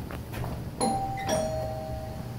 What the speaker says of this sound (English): It's like there's a peephole. It's also a doorbell.